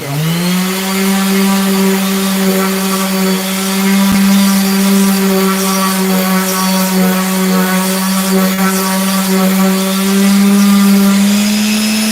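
A loud power sander whines steadily on a wooden charcuterie board, a sustained buzzing tone that holds for the whole stretch, with no talking.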